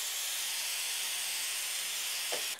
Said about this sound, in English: I'm going to try to give it a little clean with the WD-40